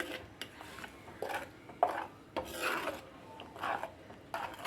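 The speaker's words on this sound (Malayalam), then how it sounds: "ഇനി നന്നായിട്ടൊന്ന് ഇളക്കി കൊടുക്കാം." A spoon scrapes and rubs through gooseberries coated in ground paste in a pot, giving a series of rasping strokes with short pauses between them, close and fairly quiet.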